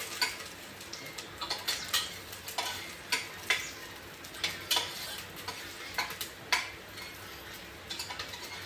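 Onions fry quietly in a pan for a mutton dish while a spoon stirs them, giving soft sizzling under regular scraping clinks of metal on the pan about once a second. No speech.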